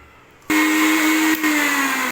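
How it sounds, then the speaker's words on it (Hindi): An electric grinder jar runs on crispy fried besan (gram flour): the motor kicks on suddenly into a loud, steady high whine, briefly dips and restarts, then keeps roaring close up, with no talking. "अब इसको हम ग्राइंड कर लेंगे सारे"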